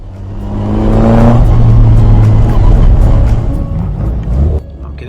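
Loud, close engine of a classic Formula Ford race car at Cadwell rising in pitch as it pulls away toward the track, a steady droning roar that drops off abruptly near the end.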